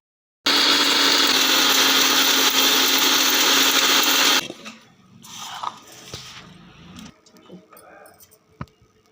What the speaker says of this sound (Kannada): ಈಗ ಅದನ್ನು ನಾವು ಸಣ್ಣಗೆ ಮಿಕ್ಸಿ ಮಾಡಿ ಇಟ್ಕೋಬೇಕ್ರಿ